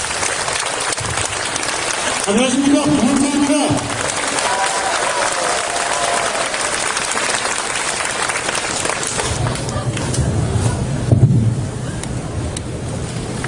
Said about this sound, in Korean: 큰 박수로 맞습니다.